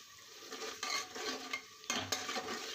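A spatula scrapes and stirs chili powder, turmeric and salt spice paste with added water in a hot pan, with continuous sizzling and repeated scraping strokes close by and no talking.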